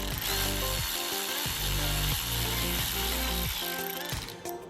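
A ratchet cracks loose the 10mm rear main seal bolts on a Nissan RB25/RB26 engine block, giving rapid, loud, close mechanical clicking in repeated bursts that ends in a short pause.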